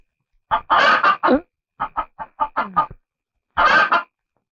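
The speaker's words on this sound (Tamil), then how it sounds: "கோழி." A chicken clucks in a quick series of close, loud clucks and squawks, pausing, then one more burst.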